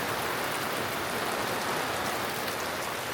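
Heavy rain pours down on a campsite with an awning, a dense, steady hiss of drops drumming on surfaces, loud and close throughout with no voices.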